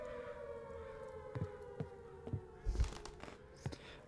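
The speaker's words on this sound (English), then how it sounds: "I don't like the sirens." A steady, wavering siren drones in the background of a video game, joined by a few dull thuds and knocks nearby.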